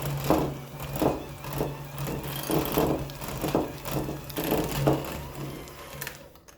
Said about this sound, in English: we're gonna mix it on medium speed until fluffy